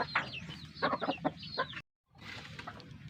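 Backyard chickens, including a hen sitting on eggs, clucking in a series of short, quiet, close bursts, with a brief gap in the middle before the clucking resumes.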